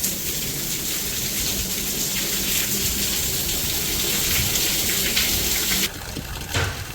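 Steady heavy rain pours over a farm field as a dense, continuous hiss that drops away suddenly near the end, leaving quieter dripping and a faint low rumble.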